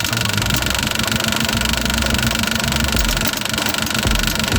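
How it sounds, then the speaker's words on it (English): A running engine with a starved fuel pump clacking steadily under a continuous mid-range idle rumble and vibration, close and loud throughout. "that fuel pump is like going clackety clackety"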